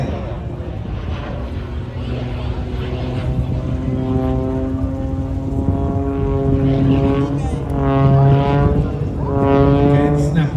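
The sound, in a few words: aerobatic aircraft performing at Ayr air show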